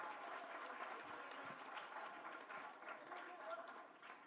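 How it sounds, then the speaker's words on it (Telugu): An audience applauds after a Narishakti women's empowerment dance performance, with dense, steady clapping held at an even level throughout. "నచ్చితే కొంచెం గట్టిగా చెప్పట్లు కొట్టాలి"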